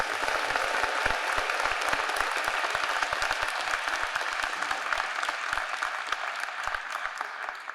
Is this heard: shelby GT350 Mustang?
no